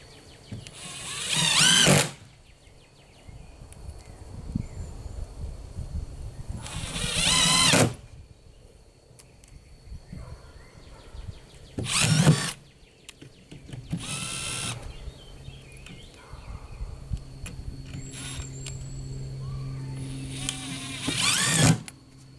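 A power drill drives the supplied screws into the bottom of a wooden stand for a 40-gallon breeder tank enclosure, with four loud whirring bursts spaced across the clip and quieter handling and clatter between them.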